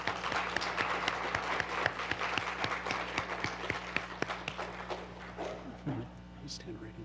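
An audience claps in a round of applause at an instructor appreciation and training event, steady dense clapping that thins out toward the end, with a low hum underneath.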